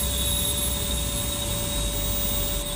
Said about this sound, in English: lining up on the runway.